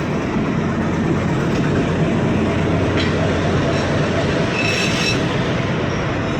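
Banalata Express passenger train with a power car and locomotive number 18, rolling along with a steady loud rumble of wheels and carriages, a few faint squeals near the end.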